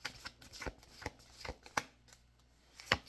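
Cards riffled and bridged repeatedly, soft irregular flutters with sharper snaps, close up and quiet, no voices.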